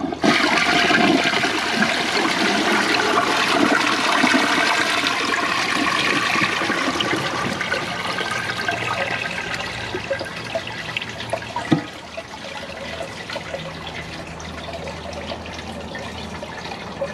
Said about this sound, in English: Let's see how powerful it flushes on a front flusher.